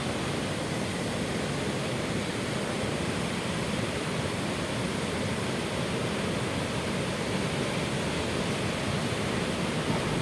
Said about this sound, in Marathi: कळंबा तलाव ओव्हरफ्लोन वाहत आहे तर तुम्ही पाहू शकता इथं पाण्याला भयानक जोर आहे